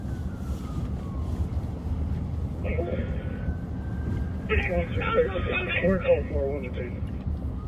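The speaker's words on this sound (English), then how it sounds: "I hear a siren now." A faint police or emergency siren wails in the distance, rising and falling beneath steady radio noise and muffled voices on a night patrol.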